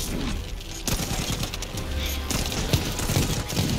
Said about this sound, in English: Hit him with these gunshots, back to back, back to back